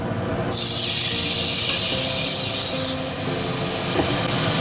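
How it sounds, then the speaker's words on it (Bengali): Chana dal goes into a hot pan of fried coconut and bursts into a loud, sharp hiss for about two seconds, then eases to a softer sizzle that swells slightly again near the end. "নারকেলটা আমার ভাজা হয়ে গেছে এবার ডালটা দিয়ে দেবো"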